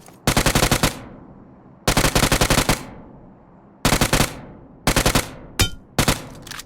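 Rapid bursts of UMP submachine gun fire from a video game, about five short volleys with brief pauses between them, loud and close.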